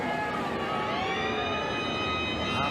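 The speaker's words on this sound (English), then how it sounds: "Half-time siren sounds." At a 1989 rugby league match, the half-time siren wails as a steady sustained tone over a roaring stadium crowd, heard from a distance.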